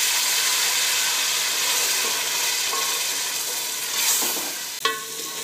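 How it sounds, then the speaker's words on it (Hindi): Tomatoes fry in a pan for a chicken oats shorba, a steady, loud sizzle with faint stirring scrapes and a sharp clink near the end. "अब हम इसमें टमाटर यूज़ करेंगे अपना। इसे फ्राई करेंगे अच्छे से।"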